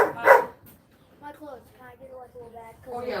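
Diesel, a puppy dog in a cage, gives a couple of short sharp barks at the start, then softer whimpering and whining tones while people talk nearby.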